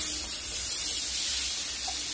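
Chopped tomato hits hot oil spiced with Kashmiri chilli powder and turmeric, giving a loud, continuous broadband sizzle and hiss that holds steady without pause or talk.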